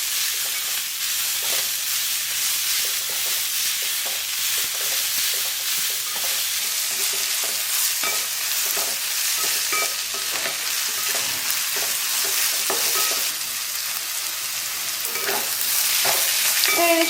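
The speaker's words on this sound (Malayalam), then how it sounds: "നമുക്ക് നന്നായിട്ട് വഴറ്റി ഇതൊരു ബ്രൗൺ കളർ ആവുന്ന വരെ വഴറ്റി വെക്കാം" Sliced onions sauté in a pan until brown, a dense, continuous sizzle close up with scraping stirs repeating throughout.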